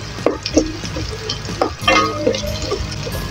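Onion dropped into hot oil where garlic is already cooking sets off a close, steady sizzle with a few soft knocks and stirring taps, and no talking.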